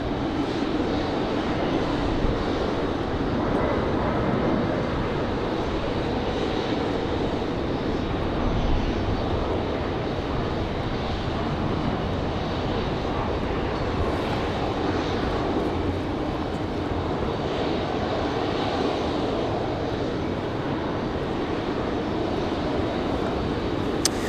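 A Republic Airways airliner approaches Raleigh-Durham, a continuous, even engine rumble holding steady at moderate loudness for over twenty seconds with no talk.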